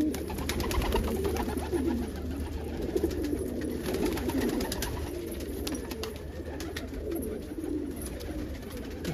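Crested homer pigeons coo softly inside a loft, their murmuring continuous under a steady ambient hum.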